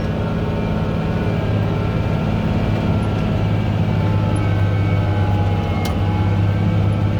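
A Case IH Maxxum 5240 tractor pulls a 5-furrow 7500 plow through an autumn field, its engine a loud, close, unbroken drone with a steady hum and no talk.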